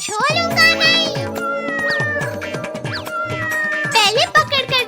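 Cartoon cat meowing repeatedly in drawn-out, wavering calls, loud and close, with animated character voices talking around it.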